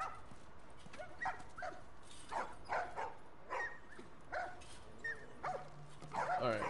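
A dog barks in The Last of Us game, several short barks spread across the moment at moderate volume, mixed with other game sounds and faint background noise.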